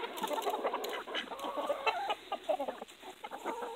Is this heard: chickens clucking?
yes